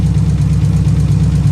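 Close-up steady idle of a 1990s Nissan 300ZX engine outdoors, suffering a misfire and tick, a loud low throbbing drone with an even rhythmic pulse and no talk.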